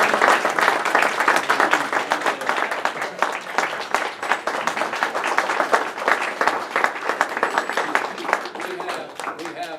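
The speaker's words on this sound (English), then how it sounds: "please join me in applauding our newest major" Sustained applause from an audience at a Rotary Club of Hampton Roads meeting, dense steady clapping filling the room for the full length, fairly close and loud with a slight easing near the end.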